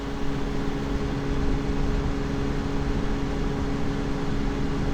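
A steady, droning hum from an LG convertible window air conditioner, with broadband airy noise and a low tonal whine, constant and unchanging throughout, recorded close with no voices.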